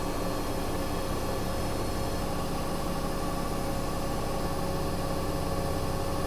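A Bosch Series 6 front-load washing machine spins its drum, giving a continuous loud whirring motor hum with broadband rushing noise, steady throughout and alone.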